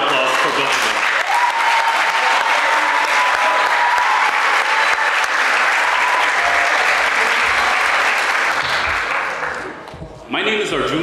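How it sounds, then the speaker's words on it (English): Sustained, loud applause from a graduation ceremony crowd at Schellhammer Business School, dense clapping filling the room for about ten seconds before tapering off briefly near the end. "So a huge round of applause for both of them."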